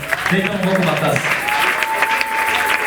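A crowd at an evangelism campaign gathering claps steadily and cheers for about three seconds, the applause dense and loud, with voices shouting over it and a sustained tone running through.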